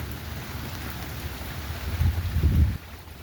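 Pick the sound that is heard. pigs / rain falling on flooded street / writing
rain falling on flooded street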